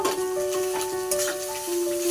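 Maggi noodles with spices fry in a hot pan, giving a constant loud sizzle with a few stirring scrapes over it.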